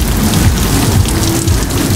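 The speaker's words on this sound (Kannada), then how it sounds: "ಮಳೆ ಬರತೈತಿ" Heavy night rain falls near a beach in Goa, a steady, dense hiss that stays loud and unbroken throughout with no voices.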